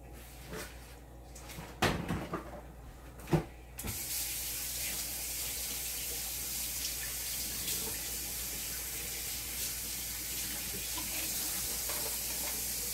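Ginger hits a hot pan for a seafood butter sauce: a few clanks and knocks, then a loud, steady sizzle that fills the rest of the stretch.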